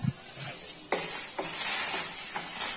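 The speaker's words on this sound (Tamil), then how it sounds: "கொஞ்சம் கொஞ்சமாக அந்த மாவில் ஊற்றி அதை வந்து நல்லா கிண்டி விட்டுக்கலாம்" Thick flour dough for kali is stirred with a spoon in short scraping strokes as boiling water is poured in, while a soft steady hiss of hot liquid continues underneath.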